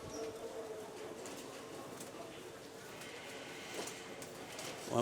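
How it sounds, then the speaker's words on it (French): Roman pigeons in cages at a Ramadan fair livestock exhibition, soft low cooing amid a busy crowd murmur and background chatter. "on a les pigeons romains."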